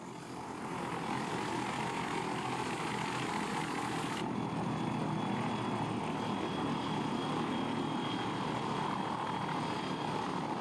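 Propeller aircraft engine at full throttle in the flight sim game Combat Air Patrol 2, cruising at about 170 knots: a steady, loud, continuous drone with no talk over it.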